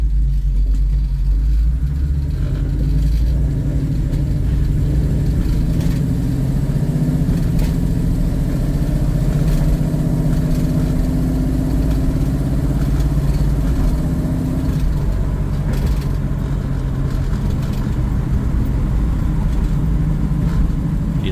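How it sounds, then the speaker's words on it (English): 1968 Pontiac Firebird heard from inside while driving and braking hard, with a loud, low engine rumble throughout that shifts in pitch as the car slows, and no talk. "I'm gonna hit on the brakes hard in 3, 2, 1."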